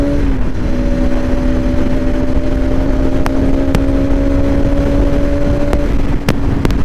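A 2025 Bajaj Pulsar RS 200 motorcycle runs at speed with a steady, loud engine drone held at an even pitch, mixed with rushing wind noise and a few sharp clicks.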